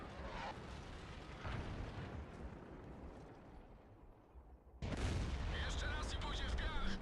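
A tank gun fires in the World of Tanks video game, an American T110E4 tank destroyer in battle: a sudden loud blast cuts in near the end over rumbling battle noise, following quieter distant booms earlier.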